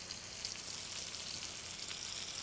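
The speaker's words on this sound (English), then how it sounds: "Over it goes on the other side. That's really only seared on that side." A steak sears in a chafing dish, a steady, soft broadband sizzle with faint crackles running throughout at low volume.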